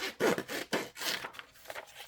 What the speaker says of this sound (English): So I will cut all of these out now.